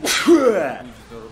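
A single sharp sneeze bursts out close to the mic, quickly followed by a man cursing.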